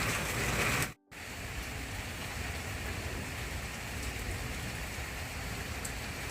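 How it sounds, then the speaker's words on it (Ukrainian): Steady rain falls over a garden, a dense continuous hiss with a brief dropout near the start, heard alone without voices. "І тепер відпочиваємо під дощик"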